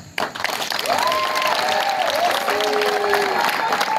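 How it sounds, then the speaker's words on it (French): A crowd at a general-election campaign opening rally in Libreville's second arrondissement, Gabon, bursts into loud, dense applause and cheering, with shrill whistles or horns wavering over the clapping and shouted voices mixed in. "vous lui faites une slave d'applaudissements"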